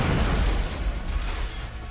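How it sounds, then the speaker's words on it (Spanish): Parcel bomb explosion: a loud, dense blast with a broad rumbling roar that starts at full strength and slowly fades over two seconds, with no voices. "La explosión hirió de gravedad al asistente y dejó sin audición al Dr. McConnell."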